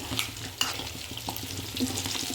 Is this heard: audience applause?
no